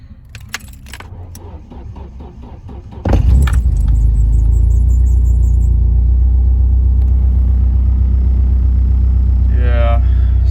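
Keys jingle and a starter cranks briefly, then a Nissan 240SX engine running on E85 fuel fires up and holds a loud, steady, close idle rumble.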